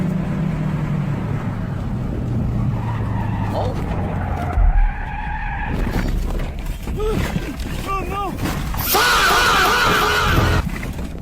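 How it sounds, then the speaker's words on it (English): Tires skid and squeal as a car slides towards the edge of the road, recorded by a dashcam, with engine noise and a shattering crash, while voices talk over the commotion. "He was left skidding towards the edge,"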